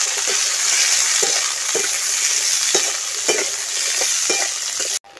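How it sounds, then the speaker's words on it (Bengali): Carrots and chopped beans fry in mustard oil with a constant loud sizzle, while a spatula stirs them in regular scraping strokes about every half second. "কুচনো বিনস দিয়ে দিচ্ছি, বিনসটাকেও ভেজে নিচ্ছি।"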